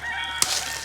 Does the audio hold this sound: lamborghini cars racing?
no